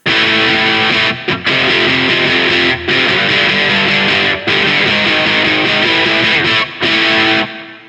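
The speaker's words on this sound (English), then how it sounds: "The distortion's quite nice. It's got that nice kind of fat but slightly fuzzy early 90s thing going on." Heavily distorted electric guitar with a thick, fat, fuzzy early-90s grunge tone, played loud and continuous with a few brief gaps between chords.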